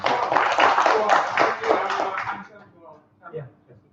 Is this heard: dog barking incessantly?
no